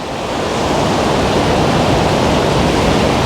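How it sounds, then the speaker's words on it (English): Water roaring down a river fish ladder in Munich, a dense, steady, loud rush of white water that fills the whole stretch without a break and with no voices. "And there's the fish ladder here"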